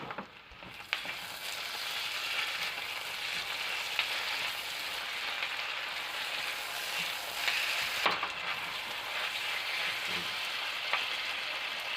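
Beef stir-frying in a hot pan with oyster sauce, a steady close sizzle and crackle with occasional clinks and scrapes of stirring, no voices.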